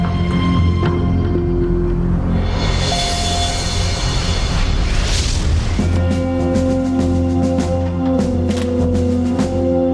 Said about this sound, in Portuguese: Quando a bola de fogo para de se expandir, uma parede de energia chamada onda de propulsão é lançada